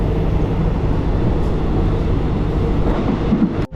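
A train running through Thailand at sunrise, a loud, close, continuous rumble and rattle of the carriage over the tracks, steady throughout with a brief dip at the end.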